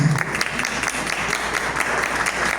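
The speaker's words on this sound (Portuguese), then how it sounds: "Quero uma salva de palmas aqui ao candidato e ao seu vice." An audience at a mayoral candidate forum in Aracaju applauds a PDT candidate and his running mate, producing steady, fairly loud continuous clapping with a faint crowd murmur.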